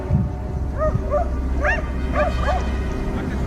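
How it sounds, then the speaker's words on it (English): Several dogs yip and bark in short excited bursts during a night wild boar hunt, some calls rising in pitch, over a steady outdoor rumble. "My heart beat fast as I heard dogs barking"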